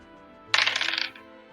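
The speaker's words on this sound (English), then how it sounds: "Oh, that's a lot of dice I heard." A handful of dice tumbles onto a table during a tabletop role-playing game, a brief burst of bright clattering that lasts about half a second and is heard up close, alone.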